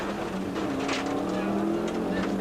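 Subaru rally car with all-wheel drive running a wet, slippery rally stage, heard on board as a steady engine drone with tonal whine, under continuous commentary.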